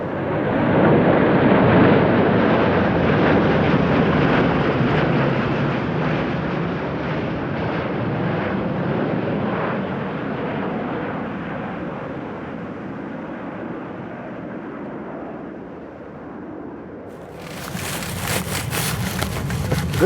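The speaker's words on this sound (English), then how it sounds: "a pair of Ospreys, the planes with helicopter-like propellers, roared overhead" A pair of Osprey tiltrotor aircraft roar overhead in a Marine flyby at Arlington National Cemetery, a loud broad rumble that swells, then slowly fades over many seconds before a sudden change at the end.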